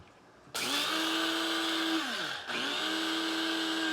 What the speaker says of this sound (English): I've got an old coffee grinder here, which is my spice grinder.